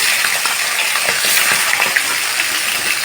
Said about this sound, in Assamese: এতিয়া কেৰাহীত তেল গৰম হৈ গৈছে ইয়াতে মই মাছৰ মূৰটো দি দিছোঁ